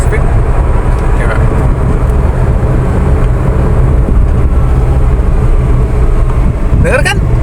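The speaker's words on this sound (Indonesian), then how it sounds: "Yang kita dengar hanya suara generator motor listriknya saja." A Wuling Air EV electric car gives a steady low vehicle drone, with a rising whine sweeping upward near the end as the electric motor speeds up while accelerating.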